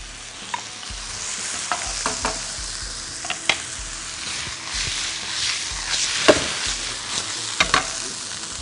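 Washed rice stir-fried in oil with shrimp and shiitake mushrooms in a pan, giving a steady sizzle broken by repeated scraping and clacking strokes of the spatula, close and moderately loud with no talk.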